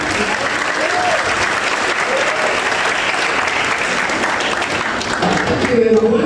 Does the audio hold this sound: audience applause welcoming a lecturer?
yes